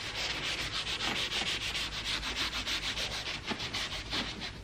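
Detailing brush scrubbing the paintwork of a Mercedes CLS, a continuous close, dense rubbing swish with rapid back-and-forth strokes, loud and steady, no voices.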